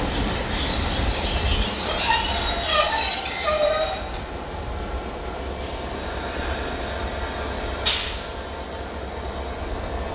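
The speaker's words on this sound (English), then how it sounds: "The two Class 67 locomotives are from Deutsche Bahn." A train hauled by two Deutsche Bahn Class 67 diesel locomotives passes by, with a steady rolling rumble and squealing wheels early on, then a sharp clank near the end, heard from close by with no talking.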